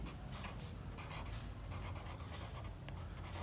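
Close, steady scratching of a pen or marker writing on paper or a board, continuous and fairly quiet with small strokes throughout and no talk.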